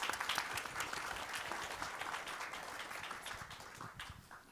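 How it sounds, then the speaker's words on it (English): Audience at an Arctic collaboration panel event gives a short round of applause, a soft, even wash of many clapping hands heard from a distance at low volume. "give him a short applause over here"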